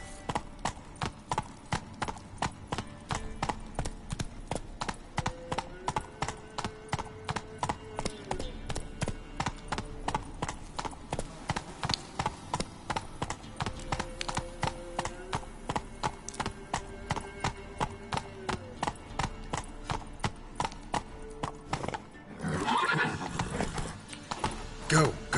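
Roach, a horse in the Witcher 3 video game, gallops with a rapid, steady clip-clop of hooves that runs for most of the stretch and stops near the end, with game music beneath and brief effects at the close.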